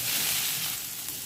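Tomatoes frying in a hot pan for stuffed aubergine, a loud, steady close sizzle with no talking.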